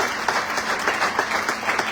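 Audience applause at a real estate and LIC business seminar, steady dense clapping from a crowd throughout, fairly close and sustained.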